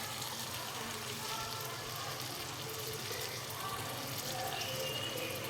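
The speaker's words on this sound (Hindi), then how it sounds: "ये दूसरी कटोरी पानी की डाल दी हमने" A bowl of water is poured into a cooking pot while making potato pulao, giving a continuous splashing gush that stays fairly loud and even from start to finish.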